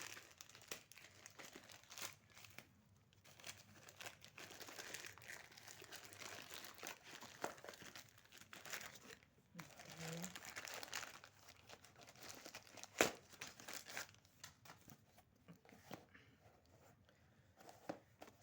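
Plastic packaging of an ESP32 board crinkles and rustles in irregular bursts as it is opened by hand, with occasional tearing and crunching sounds, close and fairly quiet.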